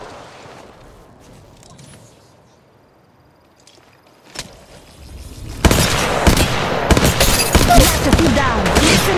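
Rapid gunfire bursts in the Apex Legends Mobile game, starting as a few scattered shots and building into a loud, dense sustained barrage over the second half, with faint footsteps and quiet movement beforehand.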